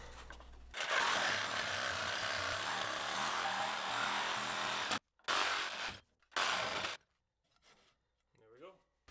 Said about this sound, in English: So I've got my reciprocating saw right here.